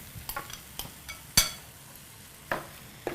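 Cooked shrimp tipped into a pan, then stirred: scattered clinks and scrapes, one sharp clatter midway and a couple more later, fairly quiet with no voices.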